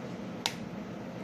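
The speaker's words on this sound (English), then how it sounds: "crack open 2 eggs" A single egg cracked open against a hard edge for dinner roll dough, one sharp brief crack in an otherwise quiet kitchen.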